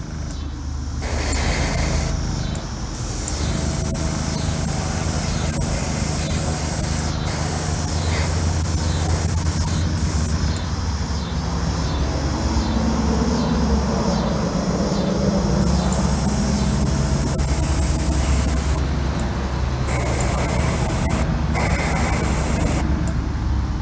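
Aerosol spray can hissing steadily and almost without pause, close and loud, while paint is sprayed onto a custom build whose axle holes carry support wires, with a few short breaks between bursts.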